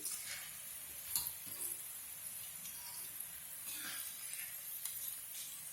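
Roasted dal lentils are scooped out of a hot pan, giving faint intermittent scraping and light sizzling with soft clicks and no voices.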